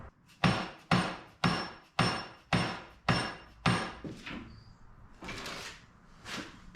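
A hammer strikes suspension arm bushings on a 1961 Chevrolet Parkwood wagon, seven sharp, evenly spaced metallic blows close by, followed by quieter shuffling and handling sounds.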